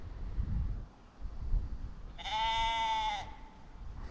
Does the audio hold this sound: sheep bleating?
yes